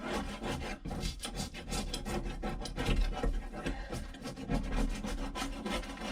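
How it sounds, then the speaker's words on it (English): Continuous close scraping as a hand tool digs old seam sealer out of a Peugeot 205 GTi Mi16 body shell, rapid rasping strokes in an uneven rhythm, no talk. "scraping this off now, basically. As tidily as I can, really."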